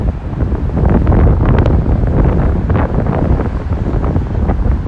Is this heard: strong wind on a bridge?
yes